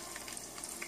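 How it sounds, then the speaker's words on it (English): Coconut shrimp sizzling as they go into hot canola oil heated to about 375, a brief burst of bright crackling and popping fry noise with no talk. "And now I'm gonna place them in. And you hear the sizzling?"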